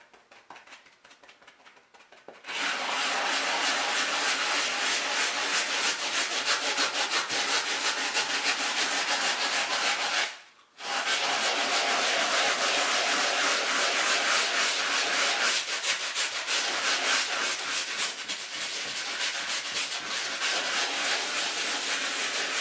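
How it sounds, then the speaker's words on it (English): A vintage movie theater seat is scrubbed hard and continuously with a loud, close, rasping rub that pauses briefly partway through and then resumes. "Give this another scrub here."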